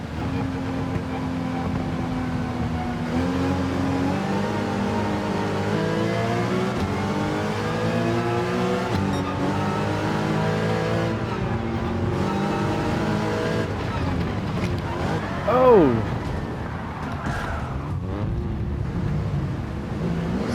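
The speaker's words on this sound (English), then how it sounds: "Cayman GT4 drives just great." Porsche Cayman GT4 race car engine in a racing game, a loud continuous drone climbing steadily through the gears with upshifts, then easing and dropping into a braking downshift with tire squeal near the end.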